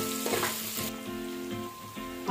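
Potatoes and mixed vegetables for a soya chunk biryani fry in a pan, giving a loud, continuous close sizzle under a faint steady hum, with a brief stirring rustle early on.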